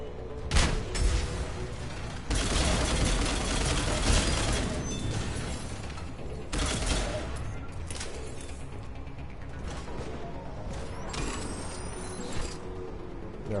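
Turret gunfire from Mass Effect 3 hits in loud bursts of rapid shots separated by brief lulls, with mechanical clanks and hisses mixed in across the fight.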